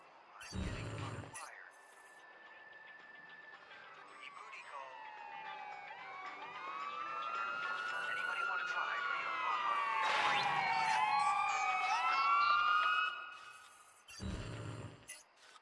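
In the video game Watch Dogs 2, a wailing emergency siren rises and falls in sweeping tones, growing louder toward the end and cutting off, with brief voices or effects at the start and finish.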